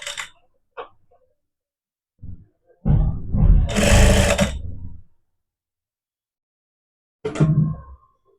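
A sewing machine stitching velvet socks, running in a loud sustained whir for about two seconds, with brief handling knocks before and after.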